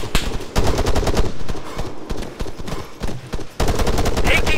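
Machine gun fire in ArmA 3, loud rapid bursts of automatic shots in several volleys with short pauses between, close and dominant.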